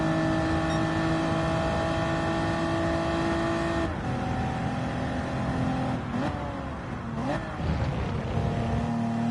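A Honda Prelude racing in a video game gives a steady, high engine drone with strong tonal harmonics, dipping briefly at a few gear changes or lifts around the middle before holding on again.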